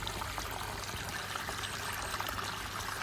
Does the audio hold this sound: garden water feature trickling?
yes